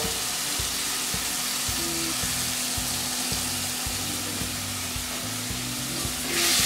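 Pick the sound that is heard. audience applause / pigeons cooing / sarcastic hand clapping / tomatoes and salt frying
tomatoes and salt frying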